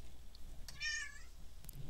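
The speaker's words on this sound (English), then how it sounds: "my cat found me and I have to throw her outside for the night" A pet cat gives a single clear meow partway through, close and fairly quiet, with soft room noise around it and no talking.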